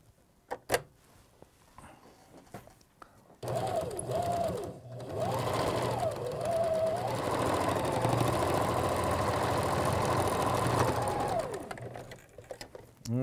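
A sewing machine tacks down fabric on a boy's fancy regalia apron, running close and steady for about eight seconds after a few brief handling clicks and taps.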